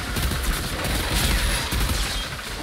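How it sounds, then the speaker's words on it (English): Assault rifle fire in Outriders rattles on in a dense, continuous fusillade of rapid cracks and booms, loud and close throughout with no pauses. "I don't mind using an assault rifle here"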